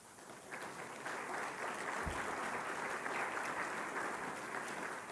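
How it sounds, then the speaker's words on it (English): Steady, sustained applause from a large audience fills a hall during an athletics hall of fame induction ceremony, a dense wash of clapping with no voices on top. "I want you to keep applauding because they deserve it"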